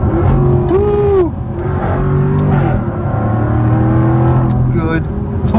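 A 2022 Jaguar F-Type R accelerates hard on a concrete highway, its engine revving up through rising and falling pitch sweeps with gear changes, loud and close, with a voice exclaiming over it.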